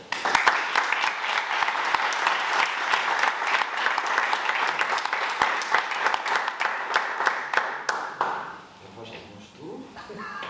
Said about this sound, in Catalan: En primer lloc, hi demano un aplaudiment, Victòria Mundet